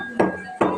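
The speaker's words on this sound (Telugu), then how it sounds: "అమలదస్తాతోని దీన్ని మిక్స్ చేస్తున్నానండి, పౌడర్ చేస్తాను మెత్తగా" Peppercorns pounded in a mortar and pestle for pepper rasam: two sharp, close thuds about half a second apart, each ringing briefly, no voices.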